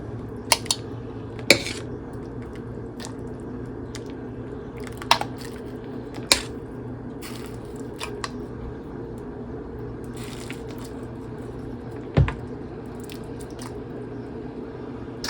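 A spoon scrapes and clinks against a pot while ladling out vegetable soup with peas, carrots, potatoes and beans, giving a few sharp metallic taps over a low kitchen hum and soft wet sloshing.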